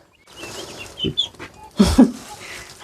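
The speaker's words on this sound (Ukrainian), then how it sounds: "А ну дивись, Данюшка, які там качечки у нас. Каченята" Muscovy ducklings in their pen give a few thin, high peeps over soft rustling and shuffling, with louder bumps and thuds partway through.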